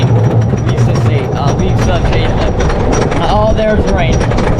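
A roller coaster train rolls along its track in cold rain, a loud continuous rumble and clatter with rattling clicks and wind buffeting close by.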